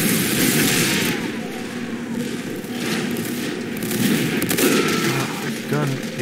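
Gunfire from a gun in Team Fortress 2 during a chaotic match: dense, continuous bursts of shots and impacts with several louder cracks, over busy game noise.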